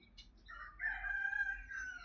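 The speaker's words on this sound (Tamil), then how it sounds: "சேவல் பையன்தான் கூப்பிட்டே இருக்கா முருகா" A rooster crows once, a long rising and held cock-a-doodle-doo call, fairly faint and somewhat distant over a low rumbling background, with no one talking.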